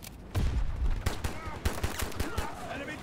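Pistol and other gunfire in Battlefield 2042 Total Defense Conquest, repeated loud sharp shots in an uneven rhythm over a busy battle backdrop.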